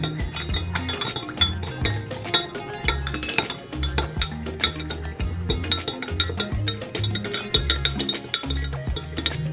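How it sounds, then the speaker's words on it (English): A spoon clinks repeatedly against a glass container while stirring a homemade hand sanitizer mixture scented with lemongrass essential oil, a steady run of light taps over background music. "and then you'll stir all of that together"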